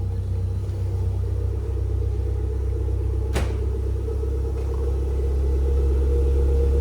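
A neglected Toyota MR2 engine idles with a steady low rumble, close and continuous, with one brief sharp click partway through.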